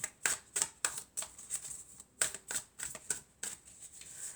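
Oracle cards being shuffled by hand, a series of quick crisp riffling bursts in an irregular rhythm with short pauses between, close and quiet with no talk.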